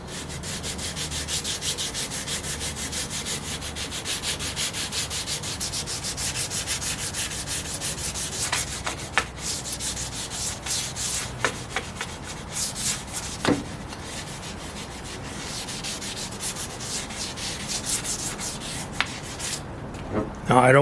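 Wood being sanded by hand with 150 grit sandpaper during furniture joint repair, a steady close rasping rub that continues for the whole stretch with brief pauses and strokes.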